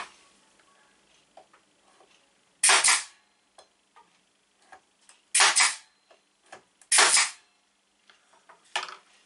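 A nail gun fires 30 mm nails into small wooden boards with four sharp, loud pops spaced a few seconds apart, with quiet clicks and handling noises in between.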